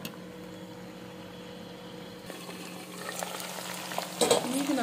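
Brinjal fries in a pan on a medium flame for vangibath, a soft low sizzle that swells into louder crackling and stirring toward the end, close and without talk.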